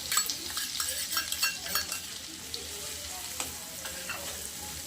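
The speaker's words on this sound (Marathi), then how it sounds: "मस्त तळू द्यायचं" Ginger, garlic and roasted coconut fry in a pan with a steady crackling sizzle, overlaid by a few light scrapes of a spoon stirring; no talking.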